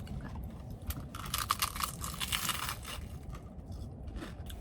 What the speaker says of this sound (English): That was a good crunch.